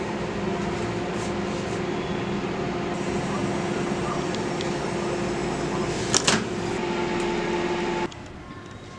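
An oven baking a fruit pizza gives a steady, even hum with a couple of faint clicks, then drops abruptly to a quieter background near the end.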